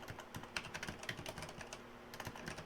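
Fast, continuous typing on a computer keyboard, a busy patter of quiet key clicks that runs unbroken throughout.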